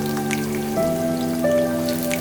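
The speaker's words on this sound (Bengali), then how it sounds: "এখন আমি দিয়ে দিচ্ছি কিউব করে কেটে রাখা আলুগুলা" Cubed potatoes hit a pan of frying panch phoron spices and chili for a hotel-style singara filling, giving a steady, close crackling sizzle like rain on a surface, with no talk.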